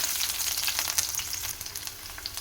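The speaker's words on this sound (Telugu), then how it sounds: "ఇప్పుడు ఆనియన్ ముక్కలు వేసేసుకోవాలి" Garlic cloves and onion pieces sizzle in hot oil in a pan, a steady close crackling hiss with scattered pops throughout, no voices.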